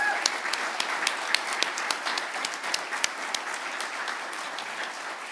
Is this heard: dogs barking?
no